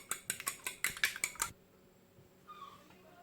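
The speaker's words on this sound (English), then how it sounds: "So we will whisk it well." Eggs seasoned with black pepper whisked briskly in a bowl, about a dozen quick clinking strokes for a second and a half, then stopping to near quiet with a faint brief sound after.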